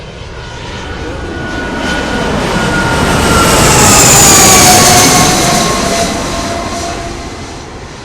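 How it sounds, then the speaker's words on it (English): A fixed-wing airplane passes near an airport runway beside a stadium in Crete, its jet roar swelling to a loud peak midway and then slowly fading, with a whining engine tone sliding downward and no voices. "You'd think it would be annoying the planes coming and going all the time, but actually it's kind of peaceful."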